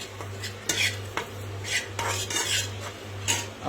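A metal spoon scrapes and clinks steadily in a hot pan, stirring crushed walnuts roasting in ghee for walnut halwa, with a low constant hum underneath and no talking.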